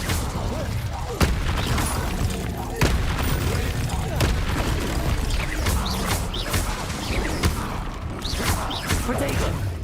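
Spell-casting in the video game Hogwarts Legacy, the Incendio fire spell among them, gives repeated sharp whooshing bursts and booming impacts over continuous game music and effects, with a voice calling out spell names throughout.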